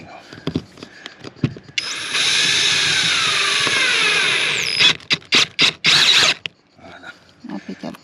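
A power drill drives screws to fix plexiglass in place inside a converted truck, one sustained whirring run of about three seconds followed by short bursts and clicks, close and loud, with no talking.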